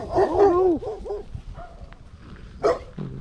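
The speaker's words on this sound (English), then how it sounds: "If they keep barking" Several dogs bark and yelp in quick bursts nearby, followed by a few scattered barks, against a quiet background.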